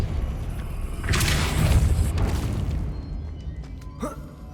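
The Depulso spell in the video game Hogwarts Legacy lands as a single deep, loud boom with a rushing burst that slowly fades, followed by a faint chime-like tail.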